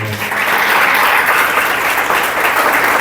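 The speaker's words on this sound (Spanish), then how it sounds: "Tanto aplauso al Señor" A church congregation applauds during a sermon, a loud, sustained wash of many hands clapping that fills the room without pause.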